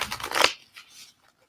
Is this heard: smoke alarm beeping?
no